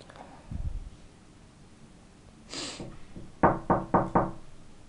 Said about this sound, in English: someone is knocking on the door